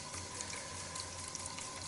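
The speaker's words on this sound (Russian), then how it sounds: "Я набираю воду." Running tap water streams steadily and fairly loudly into a container to collect water for rinsing a water-filter housing, a continuous rushing flow with no talk.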